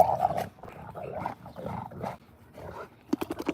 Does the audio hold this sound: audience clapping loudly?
no